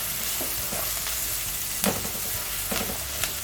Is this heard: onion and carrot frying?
yes